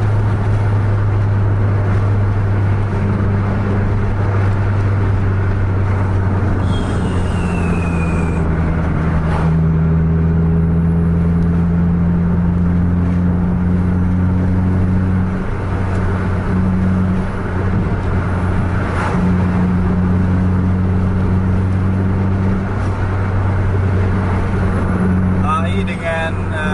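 A Mercedes-Benz bus with a 2542 Eco Life engine hums steadily and loudly up close, its tone rising in steps as it accelerates through traffic, with other vehicle noise around it.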